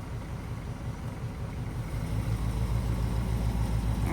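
The engine of a 1948 Cadillac running as the car creeps forward in gear, a steady low rumble close by that grows slightly fuller midway.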